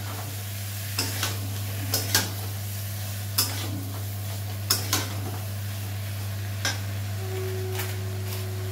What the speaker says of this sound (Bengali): আমি গরম মশলাটা দিয়ে একটু কষিয়ে নিই